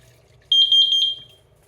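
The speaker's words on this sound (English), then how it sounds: "show how the water will trigger this alarm" A water leak sensor alarm set off by running water on a flat surface, a sudden loud high-pitched electronic beep that warbles rapidly for under a second and then cuts off.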